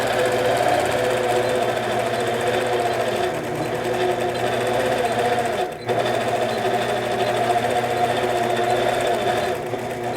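A longarm quilting machine runs steadily on a pantograph system, stitching a design across a quilt with a continuous close mechanical hum and rapid needle chatter, briefly dipping once midway.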